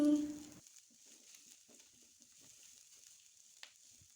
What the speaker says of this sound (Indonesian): Tumis bawang bombay hingga beraroma wangi.